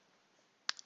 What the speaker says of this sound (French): Je clique.